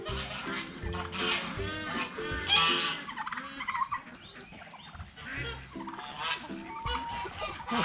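Geese and turkeys call together in a busy barnyard flock on a sunny fall morning, a dense overlapping chorus of honks and gobbles close by, steady throughout with bursts of louder calling.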